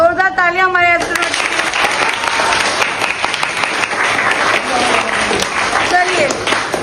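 A classroom of students bursts into loud, sustained applause for a classmate dressed as an astronaut, with dense clapping filling the space after a brief voice at the start.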